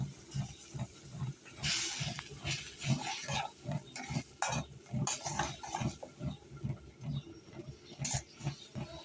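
Spice paste of tomato, ginger, garlic and onion with chilli and turmeric powder sautéing in a pan for a fish curry, heard as a low, rhythmic scraping and bubbling under repeated stirring strokes, faint and steady throughout.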